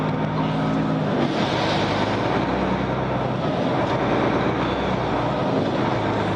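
A heavy truck tractor with independent front suspension, running at 42 tonnes, drives along with a steady, loud, broadband engine and road rumble and wind buffeting that holds unbroken the whole way through.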